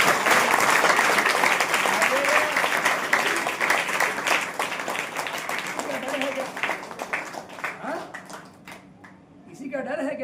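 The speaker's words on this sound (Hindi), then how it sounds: "ताली आनंद के साथ बजाओ" A church congregation at a Saturday power meeting breaks into sustained, joyful applause that gradually thins out, with a preacher's voice and crowd noise underneath.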